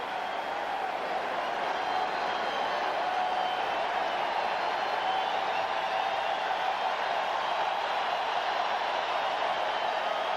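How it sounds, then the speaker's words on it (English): A rowdy crowd at a 1998 American football game between the Seahawks and Cowboys, a continuous loud roar of many voices and cheering that holds steady throughout. "Crowd's getting rowdy"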